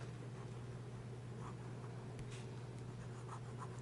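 A medium-nib fountain pen moves across paper in faint, soft scratchy strokes, barely rising above a low steady hum and room hiss.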